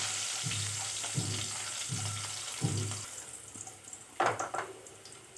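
Garlic and chilli sizzling in hot oil in a home pan for a Marathi vegetable dish, a steady close frying hiss with a few stirring scrapes and clatters toward the end, no talking.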